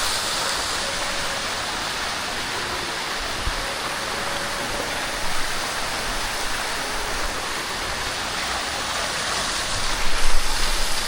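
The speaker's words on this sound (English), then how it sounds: "Whoa, see all that water coming down." Waterfall at Las Grutas de Tolantongo in Hidalgo, a steady, full rush of falling water pouring continuously throughout, close and fairly loud with a broad hiss and no speech.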